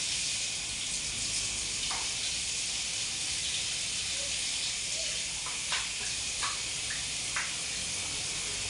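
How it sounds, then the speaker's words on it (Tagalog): A kitchen sink tap runs steadily while dishes are washed. The water makes a constant hissing rush, with occasional small clinks and knocks from the dishes, and there is no talk. "Hugasan natin ang mga pinggan."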